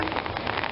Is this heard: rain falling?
yes